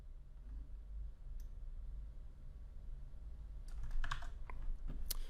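Computer keyboard keys pressed a few times near the end in quick irregular clicks, faint over a steady low hum while working in Houdini software.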